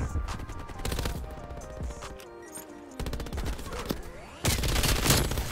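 Rapid bursts of automatic gunfire from a video game weapon, a dense volley at the start, then scattered shots and a second loud sustained burst near the end, with game sound effects in the background.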